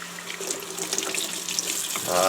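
Running tap water streams steadily into a sink as dyed polyester fabric is rinsed after color removal, a close, continuous splashing hiss that swells louder toward the end.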